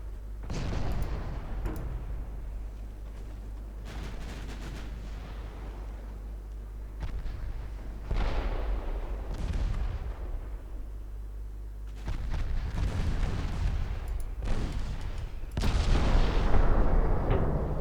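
Heavy naval main guns firing in a battleship strategy game, repeated deep booming salvos every few seconds, loud and rumbling, each blast fading into a low sustained roar, with no talking.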